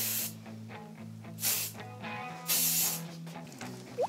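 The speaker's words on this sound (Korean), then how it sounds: "스프레이 뿌리러." Someone getting ready for work sprays an aerosol spray in three short, close hissing bursts over a steady low tonal hum in the background.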